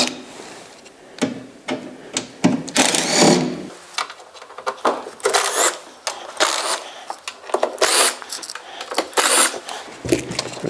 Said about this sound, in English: I'm going to use a drill just a little bit quicker